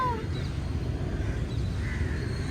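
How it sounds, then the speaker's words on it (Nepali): A crow caws in the Garden of Dreams over a steady bed of outdoor background noise. The calls are moderately faint and heard alone, with no talking. "ऊ त्यहाँ काग छ ऊ काग देख्यो काग"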